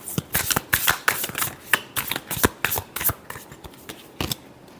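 Tarot cards are shuffled by hand in a fast run of crisp riffling bursts, close and fairly quiet, with no voice over them.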